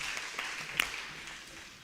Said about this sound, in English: But can we give Isaac Lizolo a round of applause?